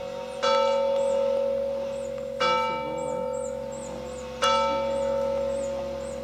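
A church bell in Corsica, near a house among umbrella pines, rings three single strokes about two seconds apart, each ringing out and decaying into a steady background hum, with no voices.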